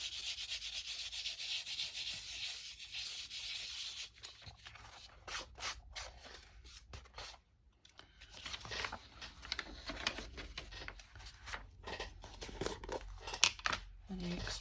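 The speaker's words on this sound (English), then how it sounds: "And then burnish it." Paper pressed onto a journal page is burnished with quick, rhythmic rubbing strokes, soft and close, broken by brief pauses and a few scratchy bursts.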